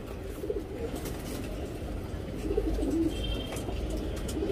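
A young tournament pigeon coos softly in a few low, throaty bursts close by, against a quiet, faintly noisy background with no talk.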